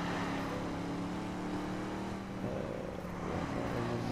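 Ford Mustang engine in the driving game The Crew, a steady sustained drone that holds throughout, dipping slightly midway before resuming at the same level.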